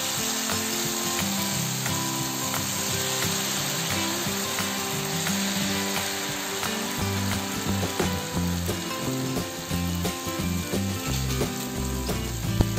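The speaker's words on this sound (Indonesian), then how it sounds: "lalu kita masukkan pisang yang sudah kita lumurin tepungnya" Flour-battered banana slices frying in hot oil for crispy fan-shaped pisang goreng, a continuous dense sizzle with bubbling crackle throughout, close and unbroken, with no voices.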